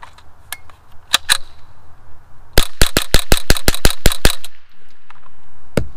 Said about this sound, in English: Now let's have a little bit of fun with the rapid fire.